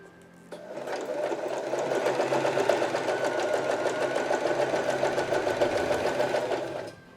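A Janome 311 sewing machine runs a zigzag stitch over elastic, a fast even mechanical whirr with rapid rhythmic needle clatter that starts abruptly, holds steady for several seconds, then stops, close and loud with no talking.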